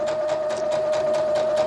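A sewing machine double stitches a seam on a small doll backpack, a close, steady rhythmic whir with a constant motor tone and no talk.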